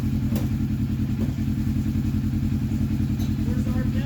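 Turbocharged Polaris RZR engine held steady at about 3,000 RPM, a loud, close, pulsing drone with an even throb, with a few brief clanks and faint voices in the background.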